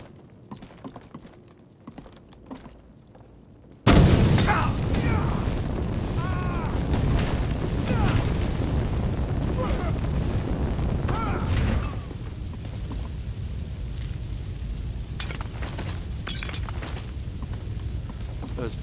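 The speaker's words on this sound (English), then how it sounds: "Those pulses of fire do seem to cause environmental shifting" Pulses of fire from a Skyrim magic mod, a sudden loud whooshing roar that erupts after a quiet start and holds as a dense, rumbling blaze with crackles, easing slightly later on, with a voice heard briefly.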